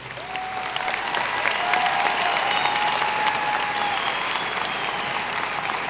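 A graduation crowd at Riverside High School's class of 2018 ceremony gives sustained, even applause for outstanding students, with dense clapping filling a large space for the whole stretch.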